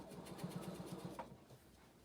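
Sewing machine stitching fabric in a short quick run of rapid, even needle pulses, close and quiet, then fading to a low hum.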